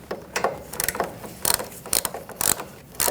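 Ratchet clicking in repeated short bursts while a plug is backed out of a Mercedes-Benz A/C condenser and receiver drier assembly, 2008-2014 model, close and fairly loud, no talking.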